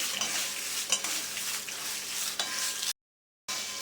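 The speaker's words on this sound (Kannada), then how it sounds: "ಇದನ್ನು ಸಣ್ಣ ಫ್ಲೇಮಲ್ಲೇ ಹುರಿರಿ." Dried Guntur red chillies are roasted in a pan over a low flame, giving a steady dry sizzle with repeated scraping and stirring strokes close by.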